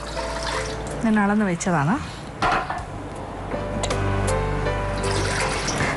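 Water poured into a hot cooking pot in a kitchen, splashing and running in bursts with metal clinks, while someone talks over it.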